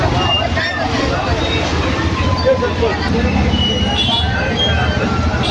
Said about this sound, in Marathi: गाड्यांची गर्दी लागली